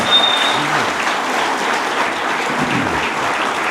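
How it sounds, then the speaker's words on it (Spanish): A church congregation breaks into sustained applause, a continuous, even roar of many hands clapping together at steady loudness throughout. "Así que demos un fuerte aplauso y gracias de todo corazón"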